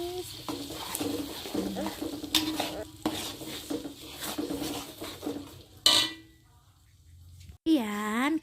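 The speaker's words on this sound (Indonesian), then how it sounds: "setelah itu kita tumis sampai dia berubah warna dan wangi" A spoon stirs ginger spice paste sautéing in a pan for Minang jackfruit pangek, with scraping, clinks against metal and soft sizzling, then a brief pause and a louder clank near the end.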